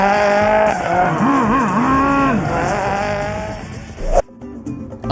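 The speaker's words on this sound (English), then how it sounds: "We're gonna go race some cars." Race cars scream past with high swooping engine tones that rise and fall, fairly close and loud, before cutting off abruptly into scattered clatter.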